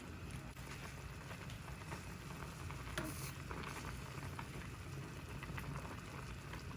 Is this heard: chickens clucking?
no